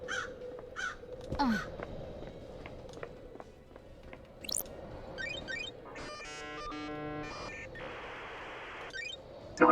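Crows cawing in the video game Paradise Killer, several calls over a steady background hum, mixed with electronic game tones and beeps.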